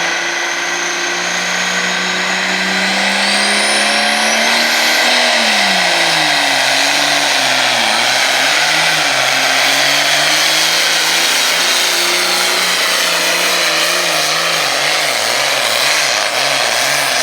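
Pulling tractor at the Grange Fair tractor pull, a loud sustained engine roar that climbs in pitch under heavy load and then wavers and surges continuously.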